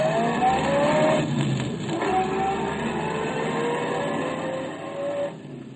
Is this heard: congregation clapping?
no